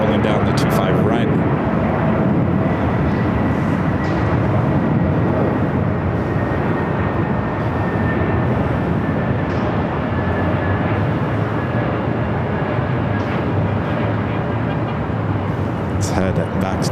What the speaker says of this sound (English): This is Air New Zealand, the 777 at 300ER. Arriving on 25 left